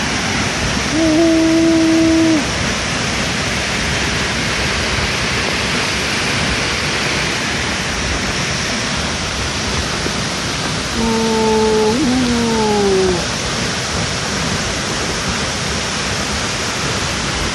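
The Kambas waterfall at Ulak Lebar in South Sumatra, a loud, unbroken roar of falling water close by, with short tonal calls or voices briefly poking through the rush.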